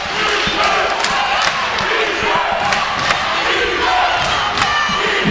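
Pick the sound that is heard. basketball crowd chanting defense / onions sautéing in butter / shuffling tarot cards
basketball crowd chanting defense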